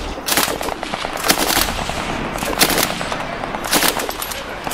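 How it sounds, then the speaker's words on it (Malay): Gunfire echoes around Limbang town in Sarawak, rendered as a sound effect of dense, rapid bursts of shots that keep going throughout at a fairly loud level. "bunyi tembakan mula kedengaran sekitar Pekan Limbang"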